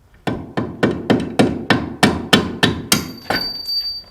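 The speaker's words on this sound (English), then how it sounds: "Might need the mallet." A mallet striking car suspension parts during control arm and sway bar end link work, about a dozen sharp, evenly spaced blows, close and loud.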